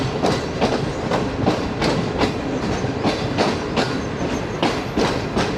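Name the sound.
Shalimar Express train arriving at Toba Tek Singh station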